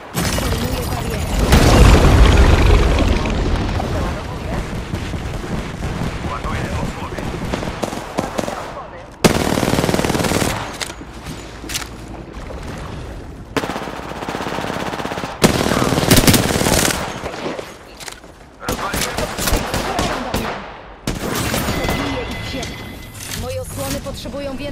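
Rapid automatic gunfire and shotgun blasts from an R-99 submachine gun and Mastiff shotgun in Apex Legends, with loud bursts recurring throughout the firefight under game voice lines and talk.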